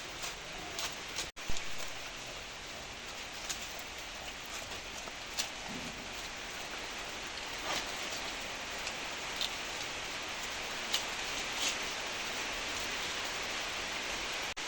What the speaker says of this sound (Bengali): বলতে বলতে দেখেন বৃষ্টি শুরু হয়ে গেল